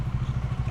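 A large, heavy motorcycle idles close by while it is being parked, its engine giving a steady, rapid low chugging pulse.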